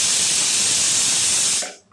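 A pressure cooker cooking egg biryani vents steam in a loud, steady hiss close by that lasts almost two seconds, then cuts off abruptly.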